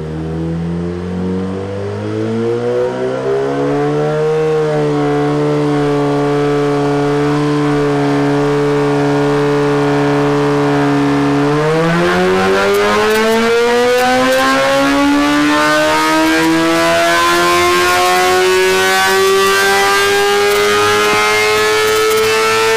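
A 2017 Suzuki GSX-R1000 sportbike engine revs loudly on a dyno, its pitch holding steady, climbing, leveling off, then rising in a long sustained pull toward high rpm, with no talk over it.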